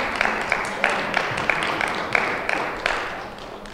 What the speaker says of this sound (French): Ouais, vous pouvez applaudir.